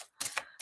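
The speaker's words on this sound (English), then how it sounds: "These are really easy to shuffle." A deck of thin playing cards riffles in two quick bursts of crisp, papery rattling, close up and brief, with no talking.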